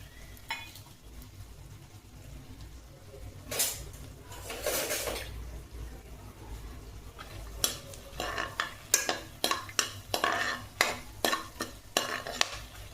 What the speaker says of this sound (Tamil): இப்போ எண்ணெய் காஞ்சதும் நம்ம எடுத்து வச்சிருக்க தாளிப்பு பொருட்களை எல்லாம் போட்டு தாளிச்சுக்கலாம்.